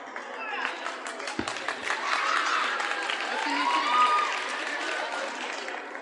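Audience applause and crowd noise at a Christian worship song performance, steady and moderately loud throughout, with a brief low thump partway through.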